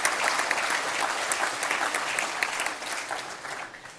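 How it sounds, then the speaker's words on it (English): Audience applause at a 2013 technology awards ceremony, a steady wash of many hands clapping that stays loud and then slowly fades toward the end. "can everyone give a round of applause to everyone that was involved?"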